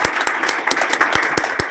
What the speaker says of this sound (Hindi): हम तालियां बजा सकते हैं उसके कफारे के लिए।